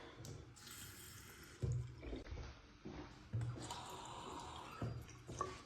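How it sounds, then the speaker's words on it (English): Water runs in a bathroom of a house in East San Diego County, a faint close hiss of flowing water with a few louder splashing surges and no talking. "Water."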